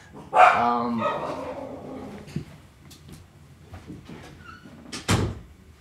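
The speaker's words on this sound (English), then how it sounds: "sorry, my dogs just went crazy." A dog lets out a loud, close bark, followed by a few scattered yips and thumps, with a sharp burst near the end.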